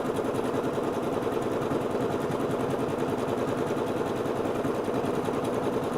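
A Butterick Signature EB6100 sewing machine stitching decorative stitches, running steadily at an even pace with a continuous mechanical whir and rapid needle rhythm throughout, close and moderately loud with no talking.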